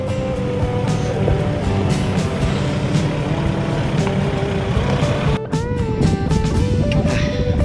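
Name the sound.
Toyota Hilux engine straining uphill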